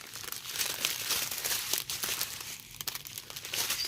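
The plastic packaging of diamond painting kits is folded up by hand, giving close, steady crinkling and crumpling for a few seconds.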